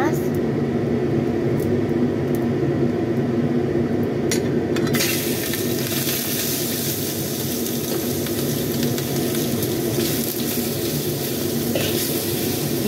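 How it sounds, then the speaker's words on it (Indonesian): Shrimp frying in hot oil, a steady crackling sizzle with occasional stirring clinks, continuous and close throughout, while a person talks over it. "Kita goreng udangnya sampai dengan berubah warna, atau kita goreng sampai dengan udangnya mateng ya teman-teman, seperti ini."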